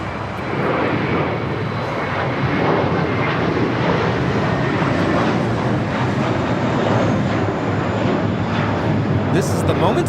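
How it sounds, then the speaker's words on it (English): A JetBlue Airbus A321 takes off at Los Angeles International Airport, its jet engines roaring as a loud, broad, steady rumble throughout, with voices faintly underneath. "Blue taking off to Fort Lauderdale, JetBlue Flight 100 A321"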